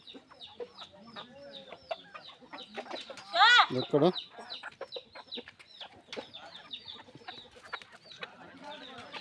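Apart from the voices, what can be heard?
chickens clucking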